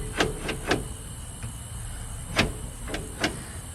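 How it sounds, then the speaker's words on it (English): Rear disc brake pads on a VW Type-3 scrape against the rotor in short, irregular swishing rubs, about six close rasps over a faint steady hiss. "You know, it's just the pads that are rubbing."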